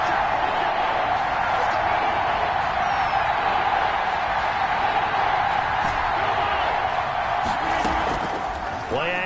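A steady stadium crowd roars without pause during an American football video game, a broad, loud wash of noise from many voices.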